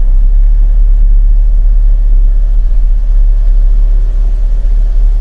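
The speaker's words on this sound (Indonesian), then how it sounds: "Ini suara mesin pada saat AC nyala karena 1000 cc ya agak kenceng" A Suzuki Karimun 1000 cc car engine idles with the air conditioning on, a steady constant low rumble and a faint whirring hum, loud and close, with no talking.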